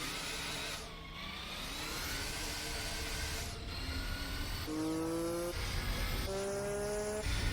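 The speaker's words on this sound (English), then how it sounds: "I think that's what's revving the car up." A Subaru Legacy GT engine revving in Gran Turismo 4 during a wet race, a steady loud drone whose pitch climbs and drops with gear changes, with tire noise beneath and no voices.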